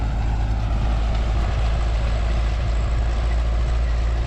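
An MTZ-82 tractor pulling a KRN row cultivator through a corn field, with a loud, steady, low diesel drone close by and no pauses.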